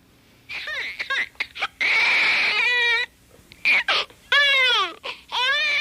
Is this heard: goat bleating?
no